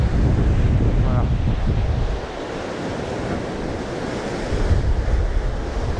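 Ocean waves wash onto a rocky coast during shore fishing for sea bream with bait, a loud steady roar of surf mixed with gusty wind buffeting the microphone, no voices.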